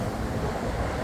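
Steady wind rushes and rumbles against the microphone while riding a Xiaomi Electric Scooter Lite 4 (2nd Gen), broad and fairly loud, with no voices.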